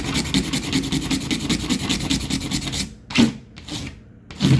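A tool scrapes orange-peel texture and paint off an interior wall in a fast, steady rasping rhythm for about three seconds. A few separate harsh strokes follow with short pauses between them. The scraping is close and fairly loud, with no voices.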